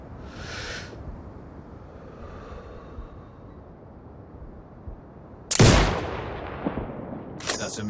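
A sniper rifle shot in the video game Sniper Ghost Warrior 2 cracks sharply after a quiet stretch of low ambient rumble, followed by a fading echo and a second brief impact near the end.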